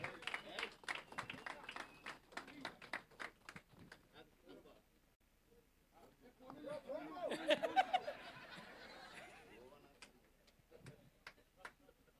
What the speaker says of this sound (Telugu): అందరూ ప్లీజ్ గట్టిగా క్లాప్ చేయాలి